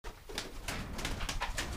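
Feral street pigeons newly placed in a loft coo softly in repeated low murmurs, with faint rustling around them and no talk.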